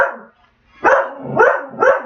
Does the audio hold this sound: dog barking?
yes